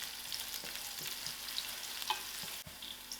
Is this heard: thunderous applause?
no